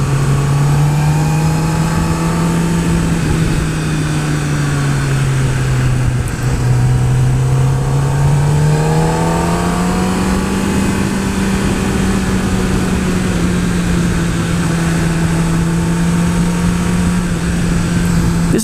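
A 2016 Kawasaki ZX-10R engine with stock exhaust drones steadily and loudly, its pitch slowly rising and falling as the throttle eases on and off, with no voices.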